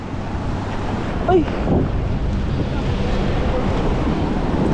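Loud, continuous roar of strong surf on a Nasugbu beach with heavy wind rumble across the microphone, and a brief shout near the middle.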